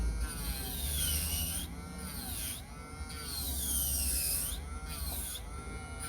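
An electric nail drill bit shapes the curvature of a polygel nail in an F1 form, a whining motor buzz that rises and falls in pitch as the bit is pressed and lifted, with brief breaks, close-up.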